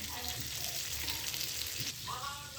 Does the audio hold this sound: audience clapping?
no